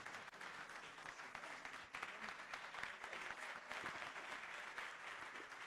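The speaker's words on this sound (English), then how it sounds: "Please, let's keep clapping as they walk back to their seats." Steady, sustained applause from a conference audience for panelists, with continuous dense clapping and no pause throughout, heard from within the hall at moderate level.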